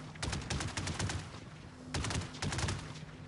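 Guns on a Trailmakers build fire in two separate bursts of rapid shots, each about a second long with a short pause between them, sharp and moderately loud.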